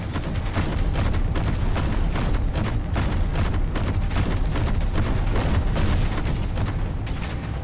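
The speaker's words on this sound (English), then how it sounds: "So I added a pair of autocannons to the front of my fighter, because I don't trust my shooting, and went after a pirate ship." Autocannons on a fighter firing at a pirate ship in Space Engineers, rapid loud bursts of shots in quick succession mixed with heavy booming explosions, dense and continuous throughout.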